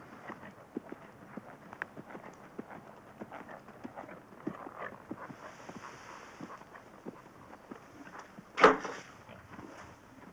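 Horse hooves clip-clop steadily on a hard surface, a rapid rhythm of light knocks, with one louder thump near the end.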